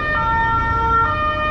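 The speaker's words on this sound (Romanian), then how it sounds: "Dar pentru că vine auto speciala de pompieri" A loud, close fire engine siren holds a steady, piercing tone with no voices around it.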